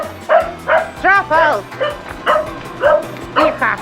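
Several dogs bark in short yips and bow-wows at close range, about eight quick bursts in under four seconds, with a person's voice briefly heard among them near a boatyard.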